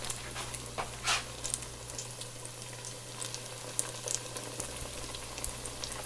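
Spoonfuls of apple fritter batter fry in hot oil, a soft, steady bubbling sizzle kept at low volume with a few sharper crackles and pops scattered through it.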